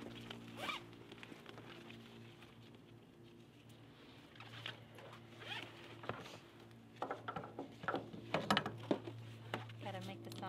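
A ratchet strap is cranked tight with a series of quick, close clicking and zipping bursts, scattered through the first seconds and clustering densely near the end over a low steady hum.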